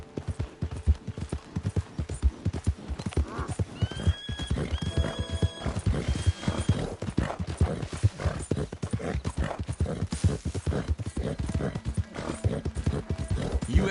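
Steady horse hooves clip-clopping through a Red Dead Redemption 2 game scene, with a few neighs and whinnies mixed in, a man riding along while another is tied to the back of a horse.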